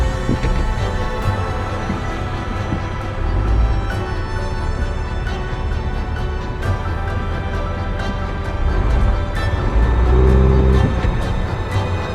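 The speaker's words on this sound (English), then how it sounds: "After Austin aired down the tires even more, he went for it, only to get stuck and need another rescue from the Forester." A Jeep labours in deep snow, its engine droning and whining steadily up close while the vehicle strains without getting free, with a brief heavier surge of revs near the end.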